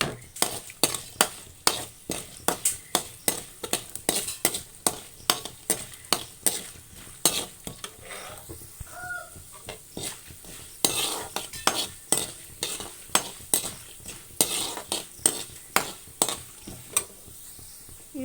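Chana dal, urad dal, sesame, coriander seeds and cumin frying in oil in a pan, a spoon scraping and stirring in steady rapid strokes with soft sizzling underneath, close and continuous throughout.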